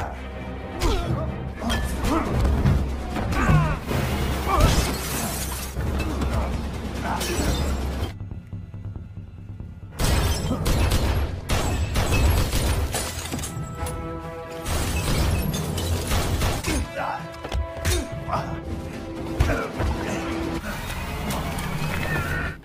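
A fight in a shop smashes snack packs and breaks a fridge, with repeated loud crashes, shattering and thuds over about twenty seconds, a brief quiet gap partway through, and some voices mixed in.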